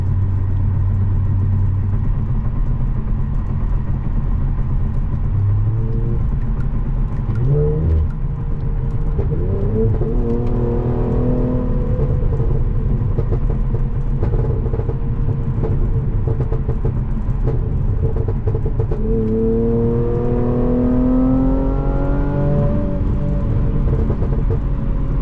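A tuned Infiniti Q60 rumbles steadily from inside the cabin during a night drive, its exhaust rising through a couple of rev sweeps and settling back into low burbles, with the engine drone continuous throughout.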